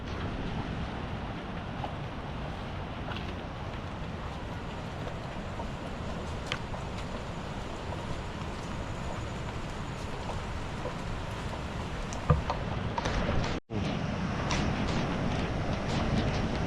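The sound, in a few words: Kondi waterfall in monsoon season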